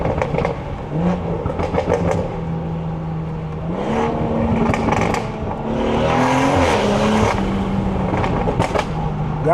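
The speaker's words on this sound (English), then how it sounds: "I wanna hear this downshift right here then." BMW 340i with the B58 engine and upgraded intake and exhaust, loud close exhaust note rising and falling through revs with a downshift blip and crackle, heard from inside the car while people talk.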